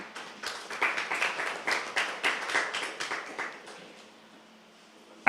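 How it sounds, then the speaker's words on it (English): Town hall meeting audience giving themselves a short round of applause, a burst of clapping that peaks in the first few seconds and tails off to a few scattered claps, heard from a moderate distance. "I'd like you to give yourselves a round of applause."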